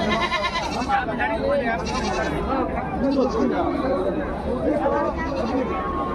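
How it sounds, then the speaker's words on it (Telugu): Male goats bleat repeatedly at the Gudur livestock market, their calls mixed into a busy din of people talking and chattering nearby. "ఇక్కడ కనిపించే ఇవన్నీ మేకపోతులేను"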